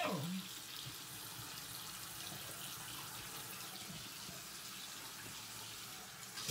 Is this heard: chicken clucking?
no